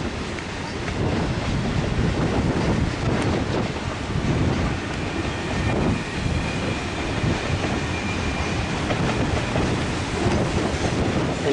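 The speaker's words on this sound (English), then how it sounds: "just watching the train coming through Lytton." A train passing through Lytton in the canyon, a broad steady rail rumble and clatter with wind buffeting the microphone throughout, no speech.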